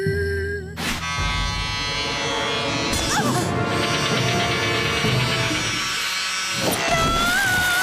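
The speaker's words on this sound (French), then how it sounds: "Se faire raser la tête par le chef" Electric hair clippers buzzing steadily as they shave a game-show contestant's head, a loud continuous drone that shifts in pitch as the blades move, with a lively studio crowd and voices mixed underneath.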